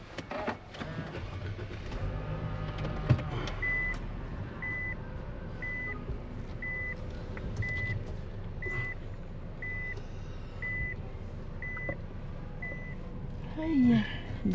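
Around a busy Saturday car park, steady evenly spaced reversing beeps repeat about once a second over a low hum of nearby cars, with a brief knock and a short squeal near the end.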